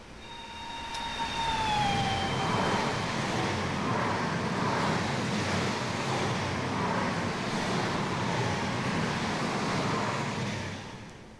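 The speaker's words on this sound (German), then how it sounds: "wir stellen uns mal hier hin und schauen mal dem Zug bei der Vorbeifahrt zu" A BR 103 electric locomotive hauls its train past a trackside spot along the Rhine in Train Sim World 3: a broad rushing rumble swells and holds for about ten seconds, then fades, with a brief thin whine at the start.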